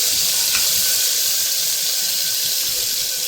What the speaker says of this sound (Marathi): कोथंबीर आणि आलं लसूण पेस्ट तर आधी आपण याची फ्राय करून घेणार आहोत